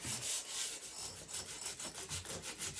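Sandpaper rubs back and forth along a wooden axe handle in quick, regular strokes, a close, quiet rasping with no voices.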